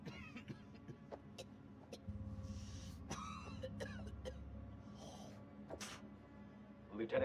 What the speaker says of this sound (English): That's a nasty cough.